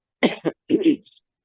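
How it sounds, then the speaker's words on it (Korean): A person coughs and clears their throat in two short bursts and then a longer rasping fit, close and fairly loud, with silence around them. "말만 하려면은 기침이 나와가지고"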